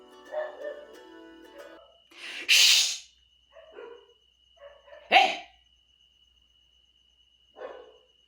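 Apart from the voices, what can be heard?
dog barking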